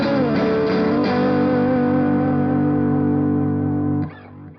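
Electric guitar through a pedalboard preset B with a slightly longer digital quarter-note delay: a few picked notes, then a sustained distorted chord that rings and repeats for several seconds before stopping abruptly.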